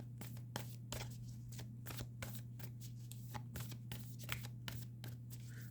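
Tarot cards being shuffled by hand in a quiet room, a rapid series of soft papery riffles and slaps repeating irregularly, close and alone over a low steady hum.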